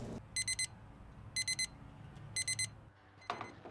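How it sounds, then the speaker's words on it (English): A digital meat thermometer probing a barbecued brisket sounds its alarm in three evenly spaced bursts of rapid, piercing beeps, fairly loud against a quiet room with no talking. "The buzzer went off"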